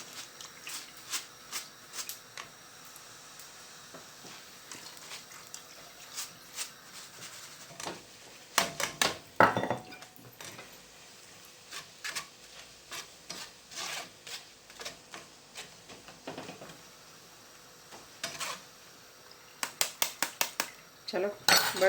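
A knife chops ingredients for chevdo into fine pieces, giving a run of sharp, irregular close taps and scrapes with short pauses and a few louder clusters, while a voice talks faintly underneath.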